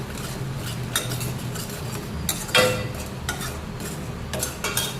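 A spoon stirs turmeric, coriander-cumin powder and salt into onion and Bhavnagari gathiya curry in a pan, giving repeated scraping clinks of metal on the pan over a low background hiss, with one louder scrape midway.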